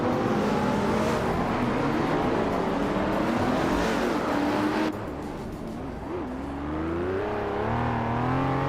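Race cars in a racing video game roar steadily at high revs, their engine pitch climbing and sliding. The engine noise drops in level briefly midway, then pushes on, with no voices.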